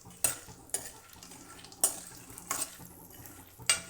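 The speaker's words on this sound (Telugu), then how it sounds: "పల్లీలు కూడా బాగా దూరగా వేయించేసుకోవాలి." Peanuts fry in a pan for a broad-bean dish, a soft constant sizzle broken by sharp scraping strokes of a spatula stirring them roughly every half second to second, close and without talk.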